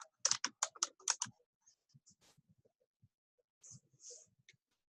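Quick bursts of keystrokes on a computer keyboard while typing text into a presentation, a cluster of crisp close clicks followed by sparse, fainter taps and a final keypress in a quiet room.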